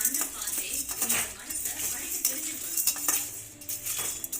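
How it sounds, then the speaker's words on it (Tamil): Spices rattle and scrape as a metal spoon stirs them around a dry pan over low heat, dry-roasting for a tamarind curry spice powder, with quick, irregular clinks close by. "இப்போ நல்லா இந்த வாசனை வர வரைக்கும் நல்லா வறுத்துக்கணும்"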